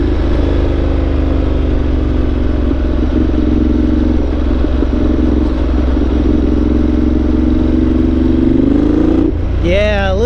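A Ducati Multistrada 1200 Enduro motorcycle engine drones loudly and steadily nearby, rising slightly before the throttle opens into a quick rev near the end.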